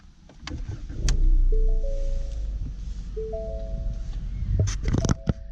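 A 2018 Ford Mustang EcoBoost engine cranks and catches, settling into a steady idle with a low rumble, while faint clicks and interior noises sound nearby.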